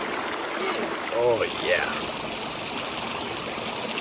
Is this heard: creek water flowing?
yes